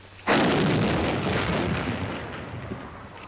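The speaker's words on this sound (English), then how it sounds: "we'll be ready in just 1 second to fire it" An artillery gun at Aberdeen fired by lanyard from a magneto box: one sudden, loud boom after a brief quiet moment, with a long rumbling decay trailing off.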